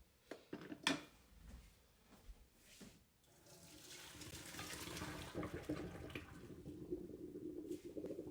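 Water pours and splashes into a kitchen sink as pasta is drained, a steady rushing flow building after a few clunks and knocks of pots and dishes at the start.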